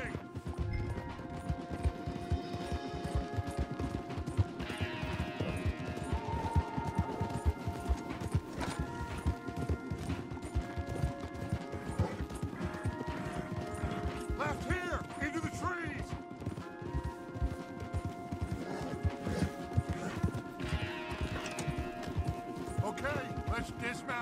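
Horses trot with steady clip-clopping hooves beneath continuous game music and effects in Red Dead Redemption 2, with occasional snorts and a busy mix throughout.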